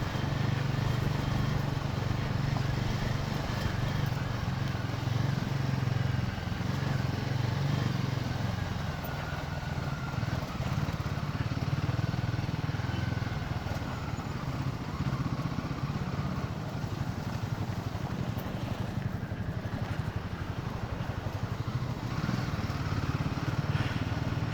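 A motorcycle engine drones steadily and continuously while the bike is ridden off-road between Padum and Singe La in Ladakh. The tone is low and rumbling, with small variations in load on the rough track.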